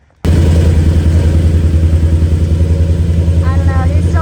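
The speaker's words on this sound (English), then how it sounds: "it started super easy and it's idling great" A truck engine catches right after starting and settles into a steady, loud, low idle with an even rhythmic chug and light mechanical clatter close by.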